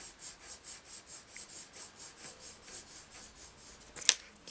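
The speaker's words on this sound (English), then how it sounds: "You can use your rubber then to rub out the highlights." A rubber eraser rubs out pencil shading on paper in a steady back-and-forth rhythm of about fourteen short, close, soft scratchy strokes, with one brief sharper scrape near the end.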